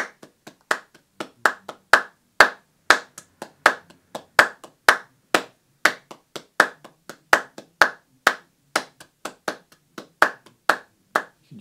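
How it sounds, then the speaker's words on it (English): Hands clap a steady, simple Spanish-style rhythm alone, sharp close claps in a repeating pattern with some accented beats louder than others, continuing without pause and with no voices. "Spanish music, clapping is really important, and it's a very simple sort of rhythm that you can do."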